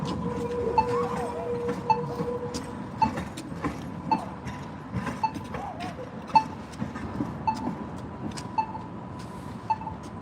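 A test train runs in the OMSI simulation game, a steady rolling rumble with a periodic ticking and clacking from the wheels and a brief tone near the start, while someone speaks quietly now and then.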